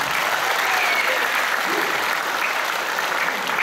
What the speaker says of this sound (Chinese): 让我们也用最热烈的掌声来谢谢我们贝斯手杨鑫。